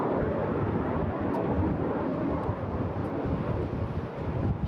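RAF Red Arrows aerobatic jets fly at the Eastbourne International Airshow, a loud, sustained broadband roar of jet engines with wind buffeting, steady throughout with no talking.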